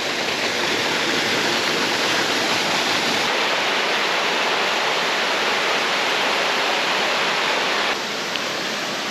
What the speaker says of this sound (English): First waterfall has been reached and it is lovely and beautiful here